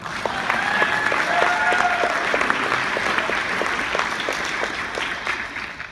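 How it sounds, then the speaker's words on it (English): Steady applause from an audience honoring Colorado ARC chapter catalysts at an awards evening, dense continuous clapping lasting throughout, fairly close and even in loudness. "Let's give them a hand, shall we?"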